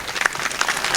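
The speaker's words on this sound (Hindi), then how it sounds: "अब मेरे लिए सदारत मैं जोरदार तालियां बजाना जी" An audience at a comedy show claps for about a second. The applause is brisk and close, with no talk over it.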